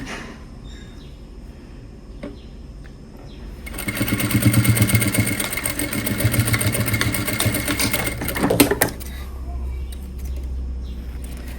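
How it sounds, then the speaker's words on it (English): A sewing machine stitches and back-stitches a fabric strap on a flare circle top, running in a loud, steady mechanical whir for about five seconds after a quiet start, then stopping, with faint background rumble. "I would stitch and back stitch it a few times, just so I know the strap isn't going anywhere"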